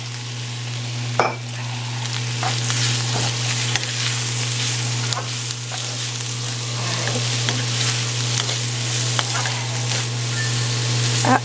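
Celery hits a hot pan of pork stir fry with a steady, bright sizzle and occasional clinks and scrapes of a utensil stirring, continuous and close without talking.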